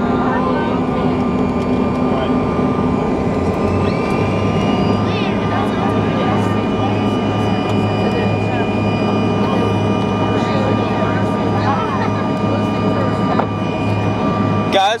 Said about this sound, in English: We missed the runway. We're doing a go around.